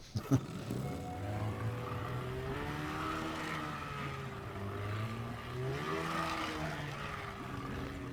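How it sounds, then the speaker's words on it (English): Boat engine in the video game Teardown revving hard, a loud continuous whine rising and falling in pitch with a couple of sharp knocks at the start. "Very satisfying engine sound."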